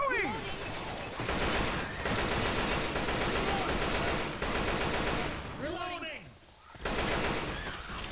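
Rapid, sustained gunfire in the zombie co-op game Left 4 Dead 2, with loud bursts that repeat almost without a break and short pauses between volleys.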